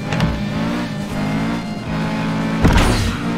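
A small car's engine in the FlatOut 2 racing game revs steadily with a buzzing mid-pitched drone, rising briefly near the end, loud and close.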